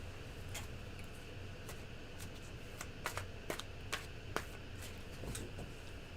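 Soft riffling and flicking of tarot cards being shuffled, several quick bursts of crisp snaps, quiet and close against a low background hum.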